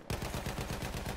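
Rapid, loud bursts of MG15 machine gun fire from Battlefield 1, a steady rattle of evenly spaced shots up close with no talking.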